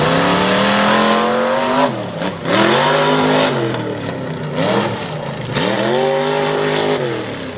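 A tough truck revs hard as it rolls out at a Renegade MTT race in Susquehanna, Pennsylvania, the Foy Toy's engine climbing loudly through repeated surges and brief drops, close and dominant throughout.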